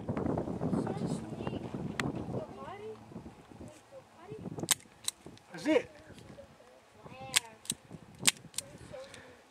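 A toy gun fires several sharp, light snaps spread over a few seconds amid wind and people talking, some pops louder and closer than others.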